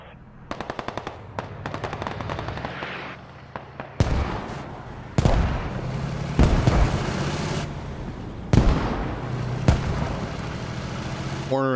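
Heavy gunfire and booming explosions in the tactical shooter Squad, with rapid machine-gun bursts early on followed by several loud broadband blasts from a mortar volley, each ringing out and decaying before the next.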